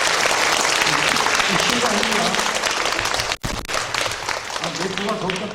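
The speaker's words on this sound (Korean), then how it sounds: "박수 한번 쳐드리세요" A church congregation applauds loudly in a dense, continuous burst of clapping. It breaks off briefly partway through, then resumes, and a speaker's voice is heard over it.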